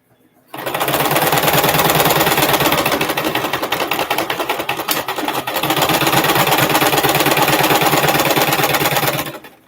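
A sewing machine stitching a fabric face mask runs loud and close in two long bursts of rapid, even mechanical chatter, with a brief slowdown around the middle and silence at the start and end.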